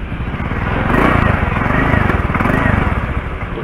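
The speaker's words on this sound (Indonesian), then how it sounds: "Ini bunyinya nih kalau knalpot bocor begitu." A Honda Spacy FI scooter with a leaking exhaust runs close by, its engine puttering in rapid rhythmic pulses that swell and ease slightly as it idles.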